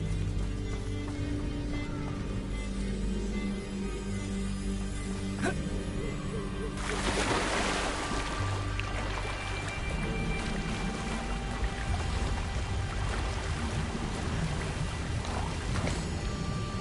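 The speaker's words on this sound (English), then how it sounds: "The waterfall." A waterfall in the video game Hogwarts Legacy gives off a constant broad rushing hiss of falling water. It swells noticeably louder partway through and continues under other faint game sounds.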